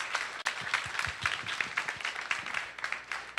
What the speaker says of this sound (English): A big round of applause for all of our SPO candidates.